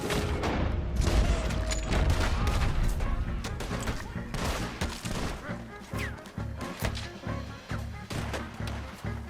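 Rifle gunfire in the video game Red Dead Redemption, a dense, continuous barrage of booming shots and heavy impacts, loud and layered, with a voice talking intermittently underneath.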